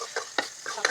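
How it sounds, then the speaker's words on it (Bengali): Meat being stirred in a hot kadai gives short bursts of frying sizzle and scraping, four or five quick strokes within a second, close and moderately loud. "মাংস পড়ে গেছে কড়াইতে,"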